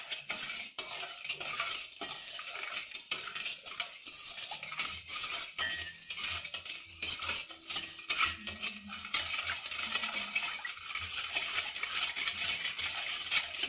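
Ghee and sugar stirred in a pan for Kalakala sweet, a steady scraping and clinking of a spoon against metal going on throughout at moderate level, with no talk.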